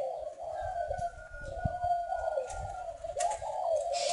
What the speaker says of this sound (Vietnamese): Các bạn có thể nghe thấy tiếng chim